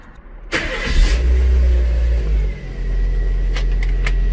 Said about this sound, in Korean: 엔진 소리는 오히려 저 10만 킬로였던 분홍이보다 낫다